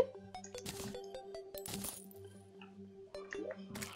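Several bright metallic clinks of game coins dropping in quick bursts, over a steady electronic hum and tones, with no talking.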